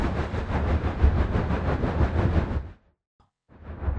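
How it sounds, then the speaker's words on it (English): A Seoul subway train departing Seoul Station rumbles loudly and steadily with rhythmic clatter, then cuts off abruptly to near silence before the roar resumes, heard close up inside the car. "The train is about to depart."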